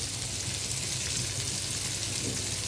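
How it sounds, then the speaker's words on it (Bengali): Fish frying in a pan gives a steady, close, dense sizzle with a fine crackle that runs unbroken from start to finish, with no voices. "এই পাশে মাছটা ভেজে নিচ্ছি"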